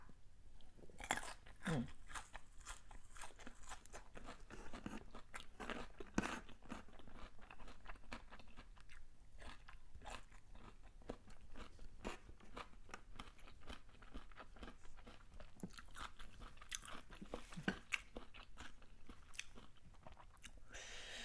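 Close, quiet crunchy chewing of a raw leafy vegetable dipped in sauce, with irregular bites and crackly munching that continue steadily for about twenty seconds.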